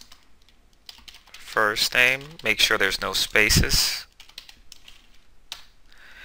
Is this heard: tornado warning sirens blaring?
no